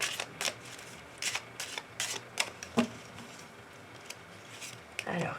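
Oracle cards being shuffled for a love reading, giving a series of short papery riffles and snaps in uneven bursts, close and fairly quiet, with faint background murmur and no speech.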